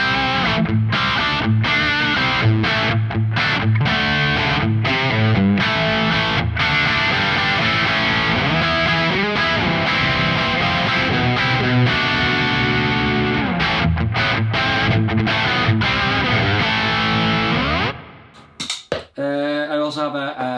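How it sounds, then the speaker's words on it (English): An electric guitar through a valve overdrive pedal plays a crunchy, distorted rhythm part for about eighteen seconds, loud and steady with choppy muted strums, then stops abruptly and leaves a short fading tail. "which is basically a valve overdrive pedal, which is great for that kind of crunchy rhythm stuff"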